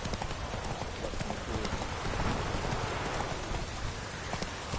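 Roach, the horse in The Witcher 3, gallops in a steady stream of hoofbeats over a dense, rain-like wash of noise, loud and continuous with no voices.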